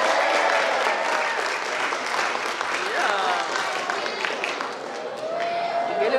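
A school talent show crowd claps and cheers loudly and continuously, with whoops and shouts rising over the dense applause throughout.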